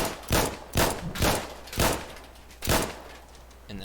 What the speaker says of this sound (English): Got our standard reload.